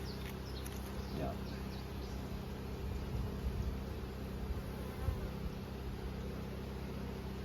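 Honey bees buzz steadily around an open hive while a queen is being introduced, a continuous low insect drone with a few louder passes near the microphone and faint talk underneath.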